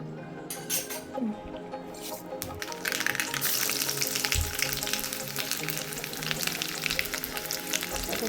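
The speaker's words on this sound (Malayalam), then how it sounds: "ഇനി ഇത് നമുക്ക് കടു വറുത്തിടാം" Mustard seeds crackle and sizzle in hot oil, a dense spattering hiss that starts with a few pops and builds into a steady fry.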